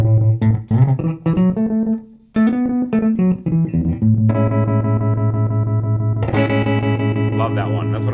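An electric guitar plays through the stutter setting of a Flamma FS05 modulation pedal. Its notes and chords are chopped into quick rhythmic bursts, clear and upfront, with no talking over them.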